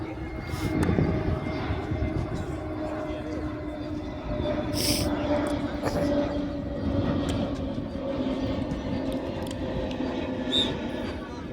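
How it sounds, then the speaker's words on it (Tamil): An Air India flight bound for Jammu drones overhead, a steady distant engine rumble with a faint tonal whine holding throughout, a sharper noise popping up briefly now and then. "ஏர் இந்தியா ஃப்ளைட்டு போகுது ஜம்மு."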